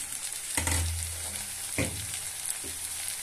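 Okra and onion for bhindi do pyaza fry in a pan with a steady, quiet sizzle, broken by a few sharp clatters of stirring.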